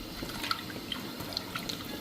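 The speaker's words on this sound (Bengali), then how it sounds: "চাল কুমড়োর পাতাগুলি এখন ভালো করে ধুয়ে আনি।" Ash gourd leaves are washed after soaking in salt water, giving faint close drips and small splashes of water at irregular intervals over a low background hiss.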